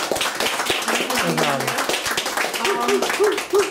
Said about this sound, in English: help me in applauding and thanking our videographer for his great job